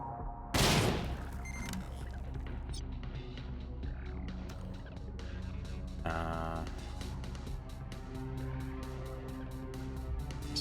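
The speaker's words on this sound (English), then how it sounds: "So we'll start with a grenade." Grenade blast in the video game Cyber Knights: Flashpoint, a single sharp, loud burst near the start that falls away into layered game music and tonal effects, with no talk over it.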